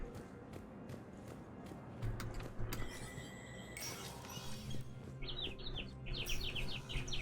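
Outdoor birds tweet in quick repeated chirp bursts, clustered toward the end over a continuous low ambient hum with faint clinks and light mechanical rattles.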